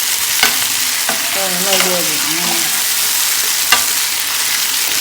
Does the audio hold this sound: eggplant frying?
yes